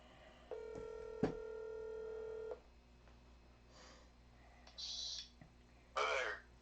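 A telephone call being placed, with a steady tone, a click and a short run of dialing beeps, followed by faint ringing or line sounds, quiet and close.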